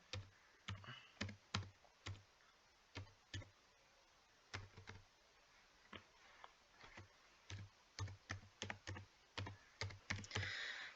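Rapid bursts of typing on a computer keyboard as an email address is entered, crisp close clicks in uneven clusters separated by short pauses, with no talking.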